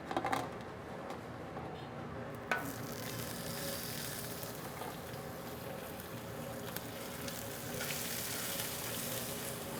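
Lobster sizzling and frying steadily in a pan in a home kitchen, a continuous broad crackle with a few sharper pops near the start and no talk.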